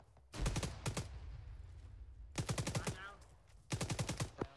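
Bursts of automatic gunfire in the military shooter game Arma 3, three rapid volleys of loud cracking shots separated by short pauses, with a player's voice heard between them.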